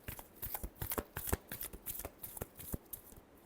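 Tarot cards are shuffled up close in a quick, riffling rhythm of soft crisp flicks and taps, quiet and steady, with no talking.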